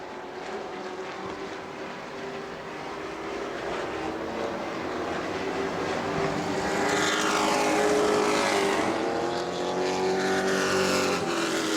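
Sportsman-class race cars roaring around the oval at New Smyrna Summer Fest, a dense continuous engine drone with pitch sweeps as a cluster of cars passes, loud and steady without talk.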